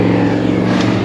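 A race car on the Goodwood circuit drones with a loud, steady engine note, heard close for about a second.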